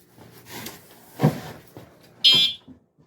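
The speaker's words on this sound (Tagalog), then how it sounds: "busina. Napindot ko." The horn of a G-Force C14 foldable 14-inch electric bicycle gives one short, sharp, electronic beep close by, with quieter handling clicks and rustles around it.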